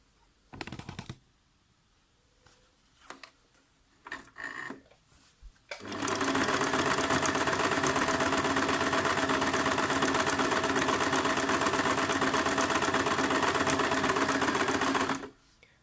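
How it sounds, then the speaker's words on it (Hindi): A Singer Tradition 2263 sewing machine starts after a few soft handling knocks and then stitches at a loud, steady, rapid whirring hum for about ten seconds before stopping abruptly. "तो अब हम इससे आपको एक टांका लगा कर दिखाते हैं"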